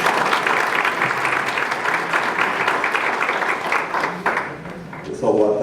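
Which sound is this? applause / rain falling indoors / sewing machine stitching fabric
applause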